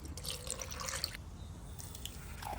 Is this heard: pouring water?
yes